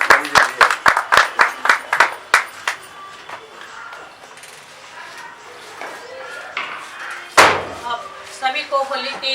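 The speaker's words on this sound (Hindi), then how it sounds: "एक बार तालियों के साथ उनका अभिनंदन करिए" An audience gives applause to welcome a singer at an all-India evening music event, starting with a burst of loud, sharp claps that fade into scattered, fainter clapping, with a voice briefly heard beneath and a louder thump near the end.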